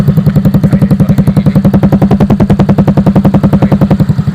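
Yamaha Grand Filano scooter fitted with a ZRC exhaust starting up, then settling into a loud, close, rapid even putter with no talk.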